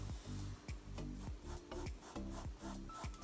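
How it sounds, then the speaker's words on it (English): Quiet, close rubbing of an eraser over pencil lines on paper, in repeated back-and-forth strokes with a steady rhythm and no voices. "I'm going to need to rub some of these lines out."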